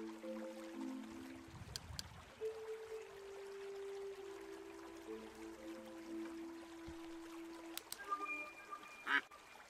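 A mother duck in the video game Woven quacks in a few short calls, with steady game ambience and scattered tones beneath, moderately loud and without voices.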